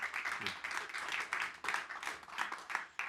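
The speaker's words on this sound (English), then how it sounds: "So please give them a round of applause in our little solution talk here." Audience applause greets a panel at a conference session on small businesses and resilient recovery, a steady close wash of clapping with slight surges lasting the whole few seconds.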